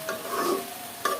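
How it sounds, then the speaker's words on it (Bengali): Radish greens being stirred in a cooking pot, with a brief spoon scrape and a soft sizzle, ending in a sharper clink of the utensil; no one speaks. "একটু ভালো করে মিক্সড করে দিই"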